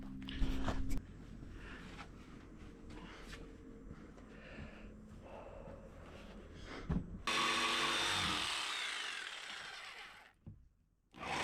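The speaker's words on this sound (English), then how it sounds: "Let's cut this first rafter and check it out" A power saw bites into a wooden rafter board for a small off-grid cabin, starting with a brief burst, then a loud sustained cut of about three seconds that ends abruptly, close by and without talk.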